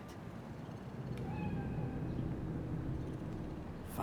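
A cat in Night City in Cyberpunk 2077 gives a faint, brief meow that rises out of a dense rumbling city background of traffic and hum, with no talking.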